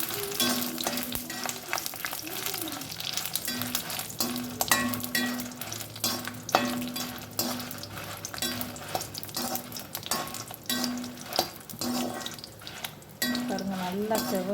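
Spices roasting lightly in hot oil on a low flame for Tamil-style raw mango pickle, with steady frying crackle, stirring scrapes and utensil clinks, and intermittent talk over it.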